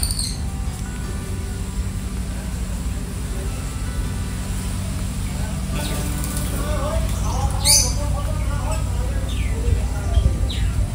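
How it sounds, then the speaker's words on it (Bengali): Lovebirds, finches and Java sparrows in a large garden cage give faint, brief chirps and twitters, mostly late on, over a steady outdoor hum. "ভেতরে নানা রকম পাখি, লাভবার্ড আছে, ফিঞ্চ আছে, জাভা স্প্যারো আছে"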